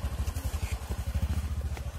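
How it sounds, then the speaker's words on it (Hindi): A motorcycle engine labours uphill on a snowy slope with its tires slipping, giving a close, steady, low pulsing thump of rapid firing beats with no pause or voices. "बाइक इससे ऊपर जा नहीं रही है।"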